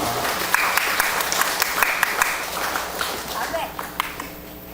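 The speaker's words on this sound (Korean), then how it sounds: "서로가 서로를 좀 격려하며 박수로 맞이하겠습니다" A church congregation claps together at an evening worship service during a summer retreat, a steady, fairly loud wash of applause with sharp individual claps standing out, tapering near the end.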